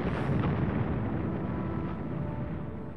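Explosion in the Evil Genius video game, a dense booming rumble that starts loud and slowly decays over a few seconds.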